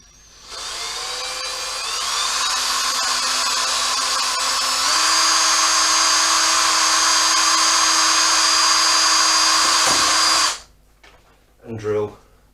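A power drill bores through a Honda CBR400 motorcycle fairing panel, its steady high whine running loud and close for about ten seconds before cutting off, followed by a brief rattle.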